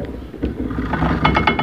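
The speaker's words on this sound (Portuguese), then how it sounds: "Eu ponho o milho ali. E ele moe, ó." An antique hand-cranked corn grinder turns, giving a steady close grinding rumble with rhythmic metallic clicks and ratcheting as the crank goes round.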